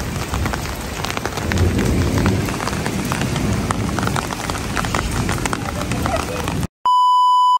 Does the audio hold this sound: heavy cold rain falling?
yes